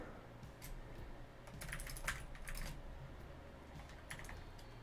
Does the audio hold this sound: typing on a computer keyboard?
yes